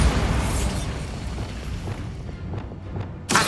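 A Bombarda spell blast in Hogwarts Legacy erupts loudly right at the start, then rumbles and fades into a crackling tail before a fresh sharp burst hits at the very end.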